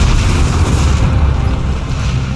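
Battleship main guns firing in the World of Warships naval game, a dense continuous rumble of heavy booms and low roar filling the whole stretch at loud level, no talk over it.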